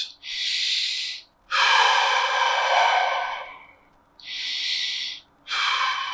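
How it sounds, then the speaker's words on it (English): Deep, audible breaths during a workout cool-down, four long inhale and exhale cycles in a slow rhythm, close and fairly loud with short pauses between them and no talking. "Now just take a few deep breaths."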